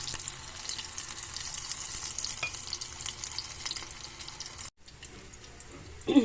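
Shrimp omelette (tortang alamang) frying in a pan, a soft, steady sizzle with occasional clicks that cuts off briefly near the end, followed by a louder clatter, with no voices.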